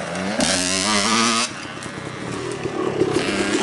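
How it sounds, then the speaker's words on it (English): Dirt bikes, a KTM and a Yamaha YZ, ride past with loud buzzing engines, one revving hard up close before the sound eases into a steady rough drone as they move off. "This is Colton on the KTM. There's Connor on the Yamaha YZ."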